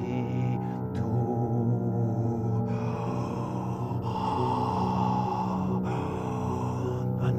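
Rhythmic breaths close out a Greek funeral lament melody, sounding over sustained, droning tones that hold steady throughout.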